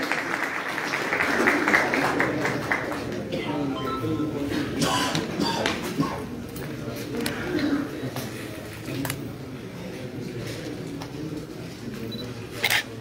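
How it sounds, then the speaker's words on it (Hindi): An audience at a Darvesh Pigeon Club prize-distribution ceremony in Haripur claps in a sustained round of applause that fades over several seconds, with a voice talking over it. "भरपूर तालियां।"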